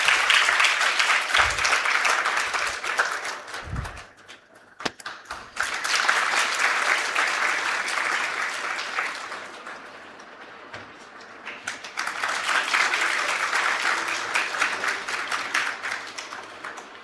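Summit audience giving a round of applause in a hall, broad sustained clapping that dips briefly around a few loud claps, then swells again in two more waves, dense and close.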